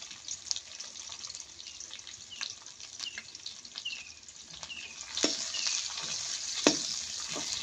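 Onions fry with cumin in hot oil for dhaba-style cauliflower salted rice, a soft sizzle broken by light stirring scrapes and clicks, fairly quiet with no talking.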